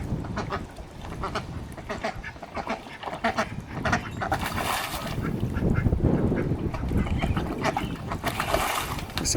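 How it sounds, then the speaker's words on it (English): Several ducks at a pond quack loudly and repeatedly in an overlapping chorus, close by, with splashing and scuffling noises underneath. "Some happy ducks."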